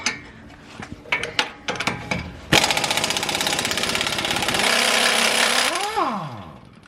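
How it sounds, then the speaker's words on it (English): A power tool loosens strut-to-spindle nuts on a Subaru Impreza WRX. A few sharp metallic taps come first, then a loud, sustained hammering buzz for about three seconds that winds down in pitch as the tool spins out. "we're going to go ahead and loosen the nuts off of the strut to spindle bolts"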